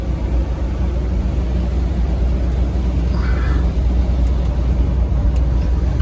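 A Ford Bronco with a lift kit cruising around the block, a steady low engine and road rumble from inside the cabin, continuous and fairly loud with no talk.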